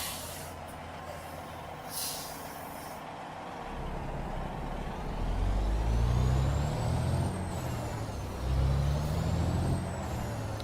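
A truck with a subdued engine pulls under load, its deep engine drone swelling and surging in waves after a short hiss early on, with a steady road rumble and no talk.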